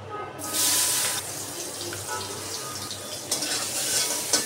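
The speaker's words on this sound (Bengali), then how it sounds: "এখন পেঁয়াজটা আমি হালকা একটু ভাজা ভাজা করে নেব।" Onions with green chilies hitting a hot pan of oil, a sudden broad hiss that swells within the first half second and then holds as a steady close sizzle with small crackles, no talking over it.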